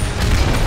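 A deep, roaring blast from Call of Duty: Modern Warfare Remastered stays loud and sustained across the brief moment, a rumbling in-game explosion with no talk heard.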